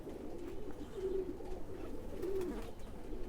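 Sialkoti khaki pigeons cooing softly indoors, two low rolling coos about a second apart, faint and close, with no talk over them.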